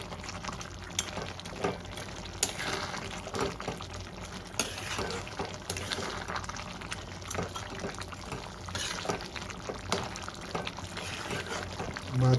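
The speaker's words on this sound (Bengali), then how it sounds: "এবার ভেজে রাখা মাছগুলো আমি দিয়ে দেবো।" Fried small mourala fish go into a simmering fish jhal curry, with a continuous bubbling, stirring wet texture throughout and no talking.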